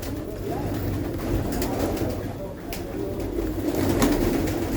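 Soft, low cooing from domestic pigeons in Jafrabad, New Delhi repeats through the whole stretch, mixed with rustling and a few sharp clicks, nearby and moderately loud.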